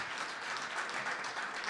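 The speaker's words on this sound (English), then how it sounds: "We'll give these guys another round of applause for taking the time out to do that." Studio audience applauding at the Clubhouse Live show with Packers wide receiver Matthew Golden as guest, a steady wash of clapping that holds at an even level throughout.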